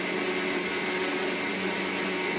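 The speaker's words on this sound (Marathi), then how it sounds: "मामी, मातशें राव गे मिक्सर ऑन करपाक" A kitchen mixer grinder runs steadily and loudly throughout, a continuous motor whine with no pauses or voices.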